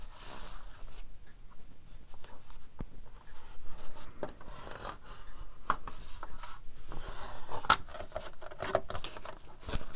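Paper is being folded by hand, with soft close rustles, creases and light scraping taps coming in uneven bursts, quiet and without any speech.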